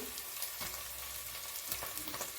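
Vegetables fry in hot oil in a pan for a vegetable biryani, giving a steady, close crackling sizzle with faint stirring scrapes and no voices.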